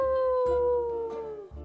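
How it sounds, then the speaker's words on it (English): A soft, sustained howl within an audiobook story, a single drawn-out tone that slowly falls in pitch, quiet and close, with light background texture and no speech over it. "One of them softly howled."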